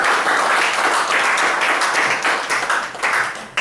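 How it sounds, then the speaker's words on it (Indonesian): Audience applause from a crowd at a live session, a dense burst of clapping lasting a few seconds with no talk over it. "Kasih aplaus dong buat teman kita."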